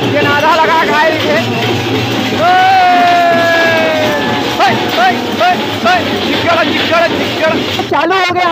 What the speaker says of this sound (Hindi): आप देख सकते हो कितना भव्य भीड़ है